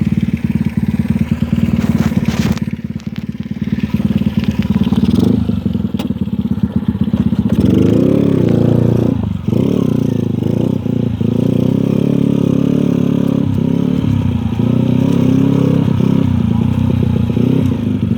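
A motorcycle heard from the rider's position, loud and close, its engine rumbling as it pulls away and then revving up and down through gear changes while riding.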